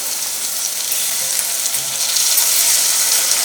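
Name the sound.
chopped tomatoes added to frying onions, sizzling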